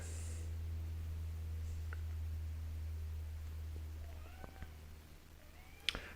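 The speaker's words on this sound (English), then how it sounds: "I can hear my cat meowing in the background" A pet cat gives a few short meows near the end, just back indoors from its outdoor enclosure, following several seconds of low steady hum in a quiet room.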